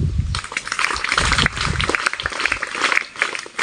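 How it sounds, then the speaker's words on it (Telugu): Students clap together at a school International Yoga Day celebration, a dense, continuous patter of many hands that stays fairly loud and steady throughout. "క్లాప్స్ కొట్టుకున్నాం"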